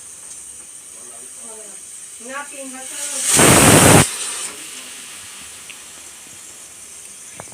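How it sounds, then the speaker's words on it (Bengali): Pressure cooker letting off a loud, sharp burst of hissing steam lasting under a second, in a home kitchen, with someone speaking before and after. "এই প্রেশার কুকারটা হচ্ছে প্রবলেম"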